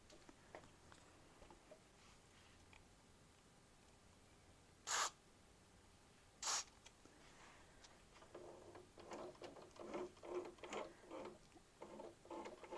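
Two short hissing sprays of lubricant from an aerosol can onto an SWF MAS-12 mechanism, a second or so apart, followed by faint mechanical clicking and handling noises.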